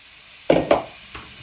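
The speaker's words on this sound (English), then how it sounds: "Now you want to place all your pork in your pan." Pork pieces dropped into a hot frying pan give two quick, close sizzling bursts a moment apart, then a faint later hiss as they settle, with no talking.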